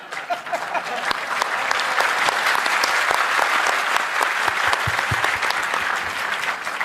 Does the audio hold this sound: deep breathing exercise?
no